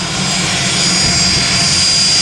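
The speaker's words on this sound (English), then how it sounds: "Looks like the P-40 is about to take off here." A P-40 warplane's piston engine roars loudly and continuously as it takes off, a close, steady drone with a bright whine riding above it.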